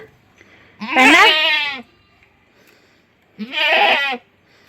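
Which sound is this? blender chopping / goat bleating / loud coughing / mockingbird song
goat bleating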